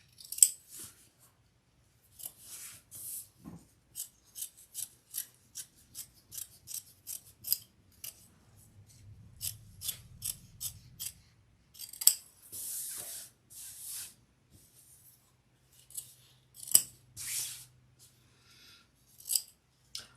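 Scissors snip through paper while a sewing pattern is cut out, with a long series of short, crisp, close cuts in irregular bursts and brief pauses, no talking.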